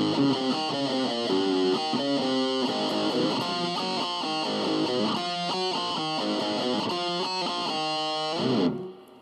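Electric guitar played through a BOSS ME-50 multi-effects unit set to a heavy distortion tone, a sustained run of loud, dense strummed chords and riffs with no talking, ending in an abrupt stop.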